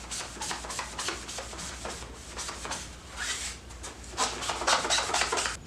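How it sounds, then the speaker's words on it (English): A magic eraser dampened with alcohol scrubs a line off a dirt bike seat cover in quick, repeated rasping strokes that grow harder and denser toward the end. "You're going to have to do a little bit of scrubbing, but if you get a magic eraser, you get a little bit of alcohol."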